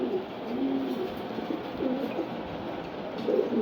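Home-bred racing pigeons coo softly and continuously, a low rolling murmur of overlapping calls at close range, with no talking.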